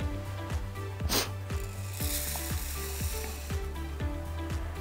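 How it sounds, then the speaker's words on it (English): Puffed rice for bhel puri is tossed with masala in a bowl, making a continuous dry crackling rustle with rhythmic scraping strokes under a steady tonal hum. "Give it a very quick mix so that all the masala is coated on the puff rice"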